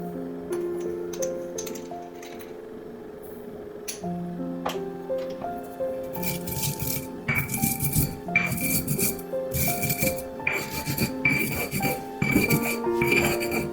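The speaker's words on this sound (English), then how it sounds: "You want to grind this first. I'm going to grind it with 1 teaspoon MSG." Sichuan peppercorn ground together with MSG: short, harsh grinding bursts in the second half, loud and close, over soft background music.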